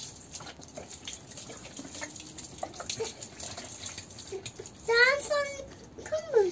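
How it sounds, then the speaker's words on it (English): Neem oil mix is poured over the surface of a compost pile, giving a soft watery splash and trickle, while an adult and someone speak close by. "I'm going to take my neem oil mix, and I'm going to pour it over the surface of the compost pile."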